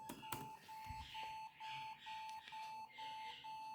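A laptop sounds a BIOS alert as a steady run of short, evenly spaced electronic beeps, each a clean tone and fairly quiet, repeating roughly every half second with faint room noise between.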